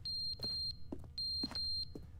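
Repeating electronic alarm from The Stanley Parable: Ultra Deluxe, pairs of high, steady beeps in a regular rhythm, loud and close over a low background hum.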